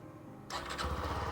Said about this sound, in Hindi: आइए बाइक स्टार्ट कर लेते हैं, इंजन साउंड सुन लेते हैं, एग्जॉस्ट साउंड सुन लेते हैं।